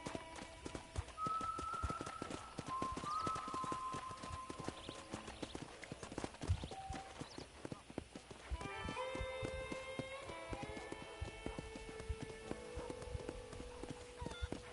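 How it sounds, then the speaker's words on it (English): Horse hooves clip-clop steadily while riding in Red Dead Redemption, a brisk rhythmic patter of hoofbeats throughout, with faint musical tones and ambient sounds layered behind. "let's see if you can still ride a horse"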